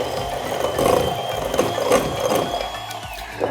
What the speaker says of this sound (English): Grab your electric whisk and pop it on the lowest setting because you don't want it going everywhere.